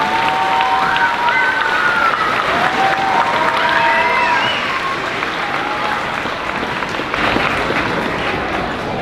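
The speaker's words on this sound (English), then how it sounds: "give Ms. King and Mr." A school audience at a fifth-grade moving-up ceremony claps loudly and continuously, with some high cheering and whistle-like calls over the applause that eases slightly toward the end.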